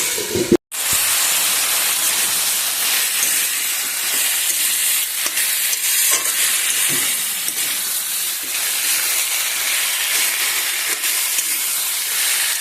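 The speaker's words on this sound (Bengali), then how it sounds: "এই সবজিগুলো দেখো আমার ভাজা হয়ে গেছে" Vegetables frying in a covered pan with turmeric, a steady loud hiss and sizzle running throughout with scattered small crackles, briefly cut at the start, no talking.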